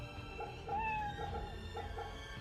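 A cat in the video game Fate/Grand Order, Waxing Moon Chronicles event, gives one short, soft meow over a faint, steady game background.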